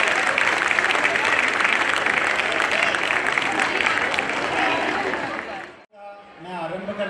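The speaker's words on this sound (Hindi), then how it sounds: "इसके लिए बहुत देर तक जोरदार गूंजती हुई तालियों का आनंद" Long, loud, sustained applause from an audience at a community awards and cultural programme, a steady dense roar of clapping for nearly six seconds that cuts off abruptly, followed by a voice speaking.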